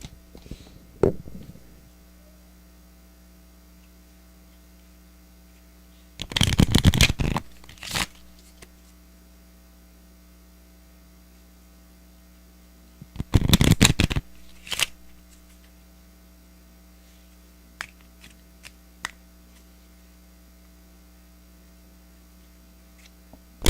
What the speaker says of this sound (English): I'm going to shuffle the cards again